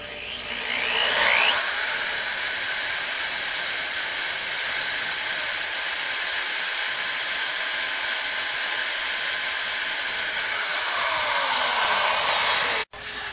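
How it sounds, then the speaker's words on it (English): A steady, high-pitched whir of a power drill running continuously for over ten seconds, close and loud, stopping briefly near the end. "Hold your drill as flat and level as possible."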